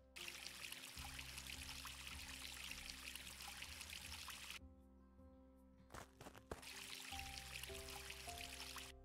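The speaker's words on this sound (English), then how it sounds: "Give it a bit of water anyways." Virtual water pours onto a farm plant in the VR game Across The Valley, a soft steady trickling stream that breaks off midway, then resumes, faint and continuous with no speech.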